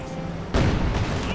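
A T-34 tank cannon fires in the Company of Heroes 2 strategy game, a single heavy boom midway that rolls into a sustained rumble of battle noise.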